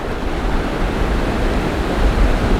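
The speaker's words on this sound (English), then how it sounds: "So this is one of the most clear long beaches you can have" Surf on Utorda Beach in South Goa gives a loud, continuous broadband roar of breaking waves, with wind buffeting the microphone and no voices.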